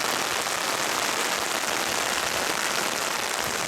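Heavy rain pours down in a dense, steady hiss, loud and unbroken throughout with no other sounds.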